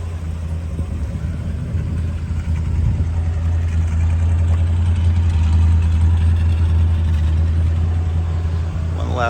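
A 1969 Chrysler Newport Convertible idles with a steady, deep rumble close by, smooth and even, and a voice talks over it.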